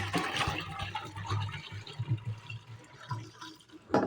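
Water is poured into a gagri water pot, giving an uneven, gurgling splash that rises and falls over a few seconds, fairly faint and close.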